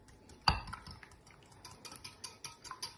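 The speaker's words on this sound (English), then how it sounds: "So 150 mils of olive oil into our liquids. I'm going to use a whisk and whisk all that together." Olive oil being whisked into liquids in a bowl, a sharp metallic knock followed by quiet, quick rhythmic clicks and taps of the whisk, faint and close.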